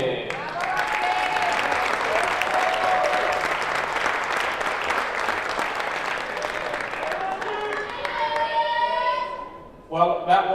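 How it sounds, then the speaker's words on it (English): Sustained audience applause after a placing is announced at a junior European air pistol championship final, steady clapping that fades toward the end, with a voice carrying over the top in the final seconds. "give a round of applause for Roxana Delia Bonte."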